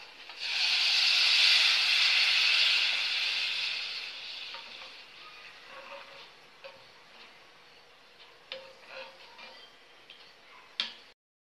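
Chana dal cooking water is poured into a pan of sautéing spices for Maharashtrian katachi amti. A loud, steady sizzling hiss bursts up first, then fades into scattered crackles and soft ticks with no talk.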